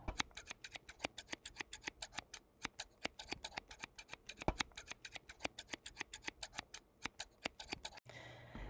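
Scissors snip through folded paper for a snowflake in a fast, even run of crisp cuts, close and clear, with a brief pause near the end and no voices.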